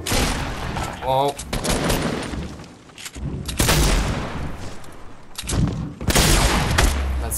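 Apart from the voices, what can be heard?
gunfire in the video game Fortnite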